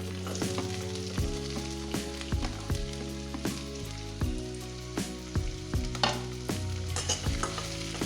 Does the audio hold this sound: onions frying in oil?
yes